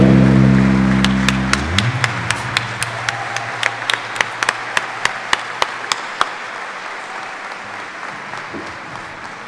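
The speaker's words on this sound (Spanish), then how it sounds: "Fuertes aplausos, por favor, si es para Cristo, aún más fuerte." An audience at a Catholic archdiocesan catechists' gathering claps loudly, a dense wash of hands punctuated by sharp, evenly spaced individual claps, after a short spoken phrase at the start.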